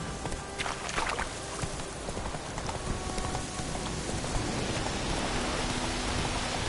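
A horse gallops in The Witcher 3, hooves pattering in a quick, continuous rhythm over a hissing rain-like wash, moderately quiet and steady throughout.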